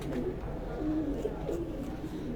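Low, soft pigeon coos repeat over a steady murmur of background noise, close by and continuous; racing pigeons at a pigeon-flying contest.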